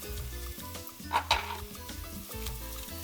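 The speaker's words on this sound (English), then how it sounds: "we're gonna keep stirring" Chicken cau-cau stew with salt is stirred in a sizzling pot, a soft steady frying hiss broken by a few sharper scrapes and clinks of the spoon, close and with no talk.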